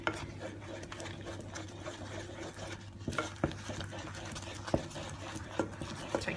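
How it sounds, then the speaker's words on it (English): Thick polenta whisked in a pot, a soft continuous swirling scrape with a few sharper knocks against the side, fairly quiet over a low steady hum. "So keep whisking it around."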